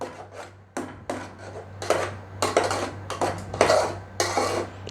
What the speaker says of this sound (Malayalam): നന്നായി ഇളക്കുക. നമ്മൾ ഇളക്കിക്കൊണ്ടിരിക്കണം